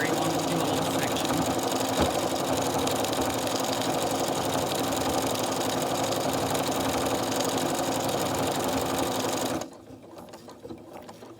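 Janome Skyline S9 computerized sewing machine running steadily while darning stitches, a loud continuous near hum and rapid needle chatter for about ten seconds before it stops, leaving quiet room noise.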